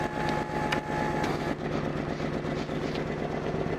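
A BMW 640i GT engine idles roughly with a misfire, giving a steady, loud, uneven rumble close by, broken by irregular popping stumbles.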